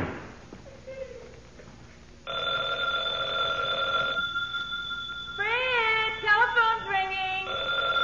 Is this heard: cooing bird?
no